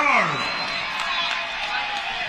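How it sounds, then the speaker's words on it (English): A fight-event crowd in a boxing venue cheers and applauds in a broad, sustained roar. Whistles and whoops rise over it, and a voice is briefly heard at the start. "Ladies and gentlemen, another round of applause for these two women closing out our prelim card."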